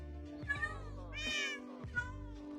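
Game cats meow loudly in a quick series of three or four calls with rising and falling pitch, close and clear over a steady background drone, and no one talking.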